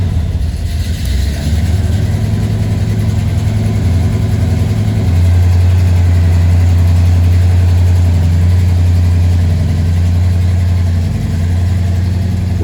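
A 1973 Chevrolet C10 pickup show truck, which runs on pump gas, idles steadily and loud after starting, with a deep, constant low rumble throughout.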